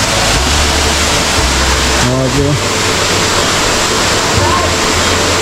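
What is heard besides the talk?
waterfall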